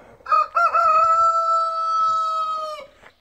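Brahma rooster crowing close by in a pen with Brahma hens: one loud, clear cock-a-doodle-doo that rises, holds and ends abruptly, with a few soft clucks before and after.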